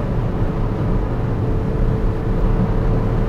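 A steady, loud engine roar with heavy low rumble and wind noise from a McLaren 720S Spider cruising at about 240 km/h, no talking.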